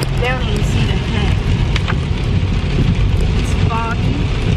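Rain patters steadily on a car, a loud, dense wash that holds throughout, with people talking inside the vehicle.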